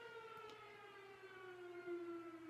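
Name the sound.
firehouse siren sounding outside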